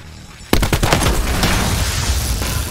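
Sustained automatic gunfire in the Call of Duty Black Ops 4 campaign, starting abruptly and continuing as a dense, loud stream of rapid shots with explosive thumps beneath.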